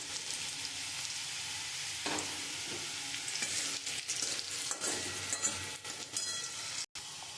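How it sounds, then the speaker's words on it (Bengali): Bay leaf, dried red chilli, whole garam masala and cumin seeds crackle and sizzle steadily in hot oil for a Kashmiri potato curry, with a few louder spits and pops and a brief drop to silence near the end. "আমি ওই তেলের মধ্যে আমি তেজপাতা, শুকনো লঙ্কা, গোটা গরম মশলা আর জিরে আমি ফোড়ন দিয়ে দেবো।"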